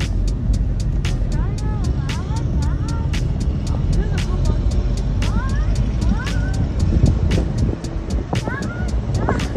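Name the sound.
scooter converted into auto-rickshaw driving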